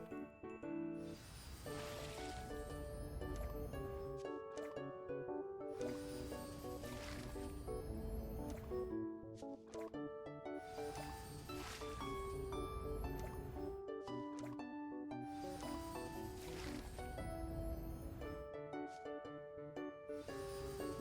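Repeated soft squishy watering splashes come from a prairie farming video game as plants are watered one after another, a regular sequence of gurgling pours set over a gentle looping musical background.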